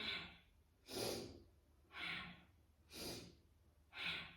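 Fast rhythmic yoga breathing: five sharp, forceful breaths about one second apart, each a broadband rush of air, close and alone with no talking.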